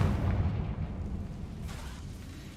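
A Confringo fire spell explodes in Hogwarts Legacy, a dense low rumbling blast that sustains and slowly fades over a few seconds, with no talk over it.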